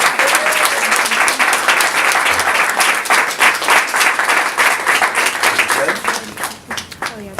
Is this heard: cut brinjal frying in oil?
no